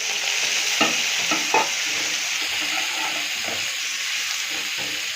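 Onions fry in a pan as tomatoes go in, giving a steady close hiss and sizzle with a few clattering stirs and taps early on, then a constant frying wash.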